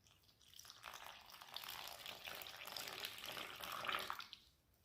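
Water pours steadily into a well of salted flour for a thin, crisp pizza dough, a soft continuous trickle lasting a few seconds that swells slightly before fading out, faint and close.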